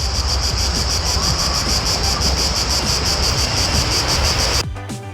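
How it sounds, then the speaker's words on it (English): A dense, loud, continuous buzzing drone of many cicadas in the trees in Rome, steady throughout before cutting off abruptly near the end. "you are listening to the cicada,"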